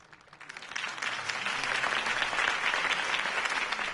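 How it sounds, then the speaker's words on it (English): Crowd applause after a campaign speech in The Batman Telltale series game, swelling quickly from quiet into a dense, sustained roar of clapping that holds steady to the end. "could have heard that applause"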